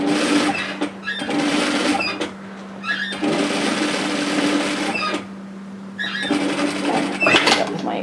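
Sewing machine stitching the seam of a bomber-style varsity jacket around a zip, running in several bursts of steady whirring with short pauses between, close by, with a voice talking at times.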